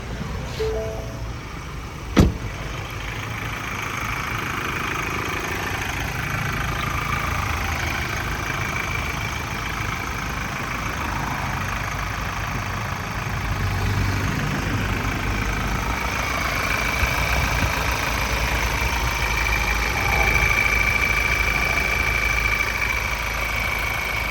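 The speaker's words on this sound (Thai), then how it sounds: "มาฟังเสียงเครื่องกันครับ" A 2019 Ford Ranger Wildtrak 2.0 automatic 4x2 idles at a steady, loud, even hum with a constant low rumble and a faint high whine. One sharp click near the start, no voices.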